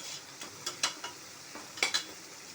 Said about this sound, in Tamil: போட்ட பச்சை மிளகாலாம் வெடிக்குது.